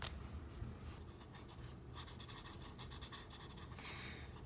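Coloured pencil scratching steadily across paper while shading a drawing of a Fortnite wheat sack in ivory, a soft, close, continuous rasping with quick repeated strokes and no talking.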